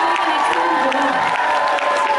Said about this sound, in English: can I give a round of applause for all the teams?